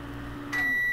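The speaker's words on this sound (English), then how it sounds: "So I'm going to put this in the microwave for about 10 seconds and just heat this up." A microwave oven heating cannabis oil hums quietly before a single sharp electronic beep sounds, close and clear, with no talking.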